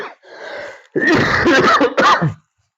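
A single harsh cough bursts out after a short breathy intake, followed by a second rough cough, close and loud, then silence.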